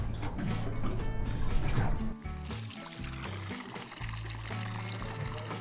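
Water pours and trickles steadily through a boat's tackle tray, a continuous splashing flow close by with no voices.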